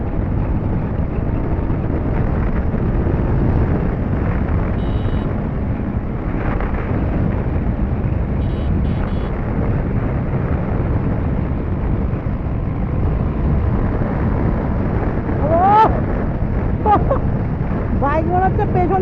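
A TVS Apache 310 motorcycle rides at speed, its low engine rumble buried under heavy, continuous wind buffeting on the microphone, as the rider talks throughout.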